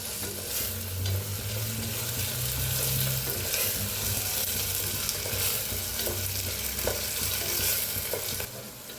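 Onion, tomato and masala fry in a pan with a constant soft sizzle, and a spoon stirs and scrapes through them in an irregular rhythm, close and moderately loud, with no talking.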